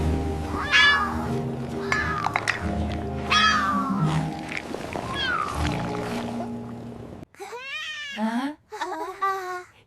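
A cat meows repeatedly in clear, close calls over a busy cartoon soundtrack of music and effects, then two louder, drawn-out meows stand almost alone near the end.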